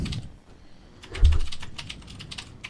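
Fast typing on a computer keyboard, a continuous run of light key clicks that swells louder midway, with no talking over it.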